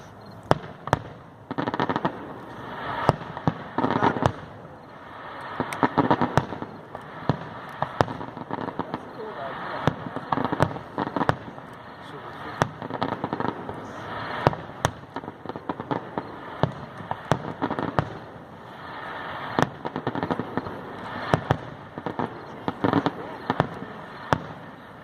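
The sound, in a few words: fireworks at a Coast Guard festival, Grand Haven, Michigan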